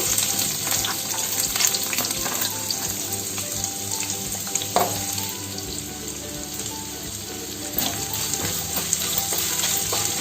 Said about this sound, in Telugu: ఇవి ఎర్రగా అయ్యే వరకు ఫ్రై చేయాలి